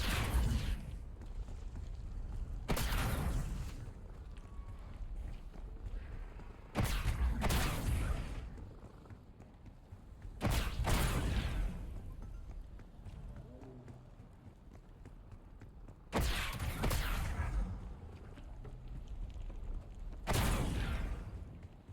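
Wonder weapon blasts in a video game as torches are shot along a path at Kowakiujo, several loud bursts spaced a few seconds apart over a low rumbling background.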